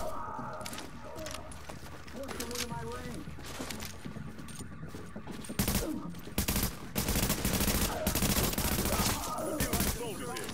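Gunfire in a video game rings out in bursts of rapid, crackling shots that grow louder and denser toward the end, while a person talks throughout.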